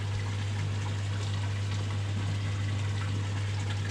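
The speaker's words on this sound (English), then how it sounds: "I'm doing a massive water change on their tank now." A koi fry tank has its water changed during a large water change, giving a steady, continuous gushing and pouring wash over a constant low pump hum, with no voices.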